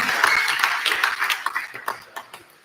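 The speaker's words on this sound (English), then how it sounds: "can we get a round of applause for how stunning living the bridesmaids look?" A room of wedding guests claps in a brief round of applause for the bridesmaids that fades out within a few seconds.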